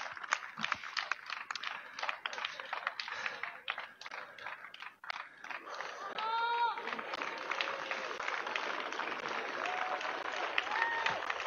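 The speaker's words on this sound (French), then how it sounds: "Applaudissements nourris." Sustained, hearty audience applause at a flashmob performance outdoors on the Place de la Bouverie in Roquebrune, dense rapid clapping throughout, briefly dipping midway, with a few whistles or cheers rising above it in the later part.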